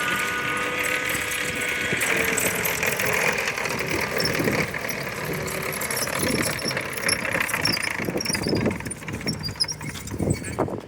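A Mowag Piranha armoured vehicle runs outdoors at a tank museum, its engine idling and rumbling at moderate distance under mechanical clanks, with faint voices in the background.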